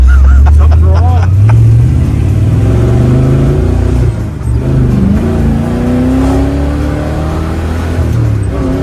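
The big-block engine of a 1968 Camaro Super Sport revs loudly up close, its rising and falling pitch sweeping through repeated throttle blips and then settling into a rumbling idle, with voices talking over it.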